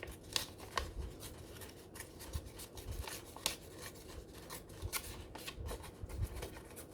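A paper bag is torn by hand in close, crackling rips and rustles, a quiet stream of sharp papery bursts with no talking.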